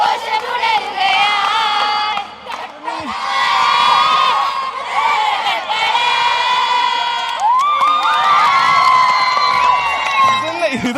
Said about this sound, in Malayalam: എങ്ങും വലിയ ആഘോഷമാണ്, ആരവമാണ്